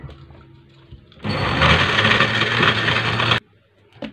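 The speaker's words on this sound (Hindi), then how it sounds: "इसको हम अच्छी तरह से ब्लेंडर में ग्राइंड कर लेते हैं।" A kitchen blender grinds milk with crushed ice for a shake, a loud, close, steady whirring roar that starts abruptly, runs about two seconds and cuts off, with quiet before and after.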